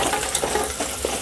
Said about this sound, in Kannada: ಸ್ವಲ್ಪ ಫ್ರೈ ಆಗಲಿ.